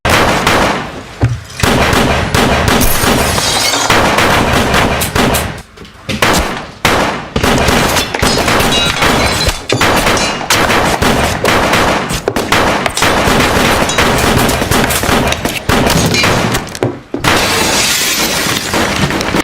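Gunfire from a scene in the TV crime drama The Wire, where the character Omar is hunted by three killers: loud, sustained bursts of rapid shots with sharp cracks and shattering, continuing almost without pause.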